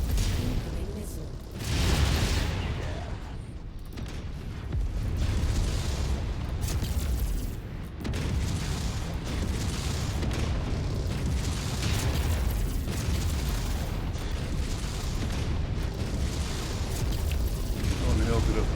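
Missile explosions rain down in MechWarrior 5 combat, a dense, continuous barrage of booms and bursts with a cockpit voice calling out warnings over the din.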